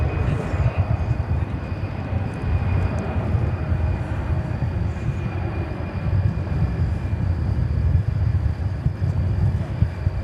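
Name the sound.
Boeing 767-300 jet airliner at DFW Airport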